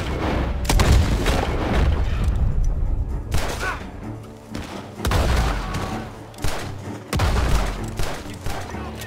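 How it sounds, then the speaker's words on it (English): Bursts of heavy gunfire and booming shots from a barn in Red Dead Redemption 2 repeat in waves, loud and close, with a few brief pauses between volleys. "The gunshots are coming from that barn!"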